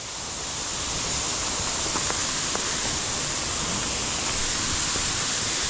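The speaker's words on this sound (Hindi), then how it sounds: "एक ही नहीं तीन तीन झरने हैं मेरे भाई" Steady broadband rush of several waterfalls in an outdoor setting, a continuous loud roar with no pauses and no voices.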